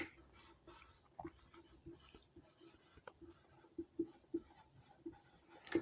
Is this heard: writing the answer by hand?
yes